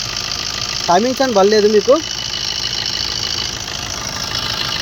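A 2009 Maruti Suzuki Ritz VDI diesel engine idles with a low, steady hum running throughout, partly covered by someone speaking briefly near the start.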